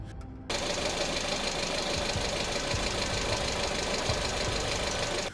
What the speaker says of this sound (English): Number 8, the mysterious engine knock.